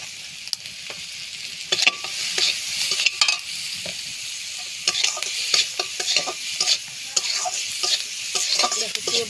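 Food seasoned with turmeric and salt fries in a pan, giving a continuous close sizzle broken by repeated scraping, tapping stirs of a utensil against the pan, with no talk.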